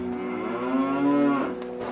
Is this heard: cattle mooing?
yes